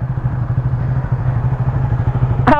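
Honda RS150 and Suzuki Raider FI underbones, both with open airboxes and UMA power pipe exhausts, producing a loud, close, rapid throbbing engine note with a short sharper rev rise near the end.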